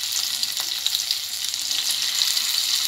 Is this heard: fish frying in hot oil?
yes